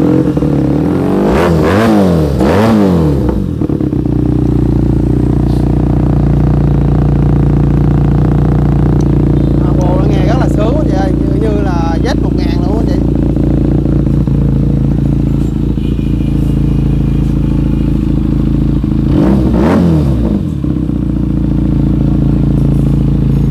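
A new large-displacement motorcycle at a dealership idles close by and is revved in sharp bursts, rising and falling at the start and again near the end, with clattering between.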